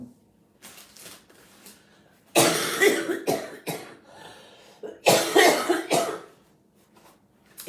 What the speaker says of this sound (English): I'm beginning to wonder if I will ever quit coughing.